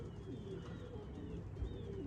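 Racing pigeons coo softly at a one-loft race against a steady background murmur, low and continuous with a few brief louder notes.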